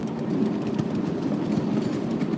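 Steam train drawn by the 84 Consolidation locomotive on the White Creek Railroad, rolling along the rails with a steady, continuous low rumble and faint rhythmic rail noise, close and unbroken, with no talking.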